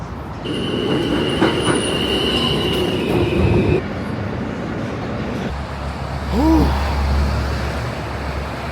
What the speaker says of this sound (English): Just got off the train. I was on it for about an hour from JFK.